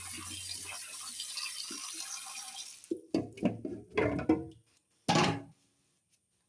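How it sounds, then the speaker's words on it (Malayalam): Cut fish pieces are rinsed under a running tap: a steady hiss of flowing water for about three seconds, then several separate splashes and sloshes as the pieces are handled. "അപ്പോൾ ഇനി ഇത് നമുക്ക് ഒന്നും കൂടെ കഴുകിയാൽ നല്ലതാ. ഒന്നും കൂടെ കഴുകാം."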